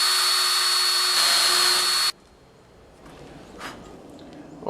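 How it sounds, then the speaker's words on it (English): A loud, steady high-pitched power drill whine drilling out spot welds on an Allis Chalmers 310 tractor runs for about two seconds, then cuts off abruptly, leaving faint background noise and a light clatter. "Drill out some spot welds and see how she works."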